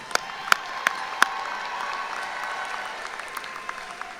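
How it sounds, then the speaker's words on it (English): Audience applause at a university Founders' Day and honors convocation for honor roll students, a broad hall-filling wash of clapping with a few sharper individual claps standing out near the start. "Please join me in giving these students a round of applause"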